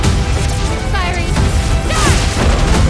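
Ship cannons fire in a PS5 adventure game at sea, loud booming blasts and crashing impacts over a constant roar, with swishing debris between shots; no speech is heard.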